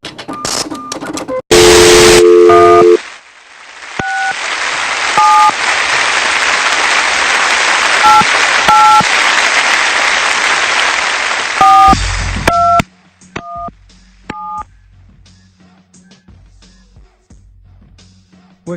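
Telephone call being placed, with a short burst of dialing tones followed by a long steady busy or ringback tone over hissy line noise, scattered beeps on top, then quieter beeps after it cuts off.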